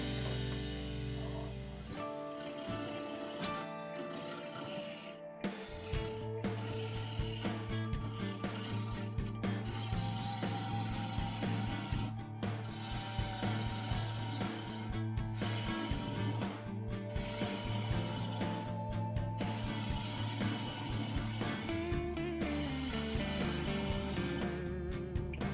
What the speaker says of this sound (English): I'm turning with a 3/8 inch bowl gouge at 1000 RPM.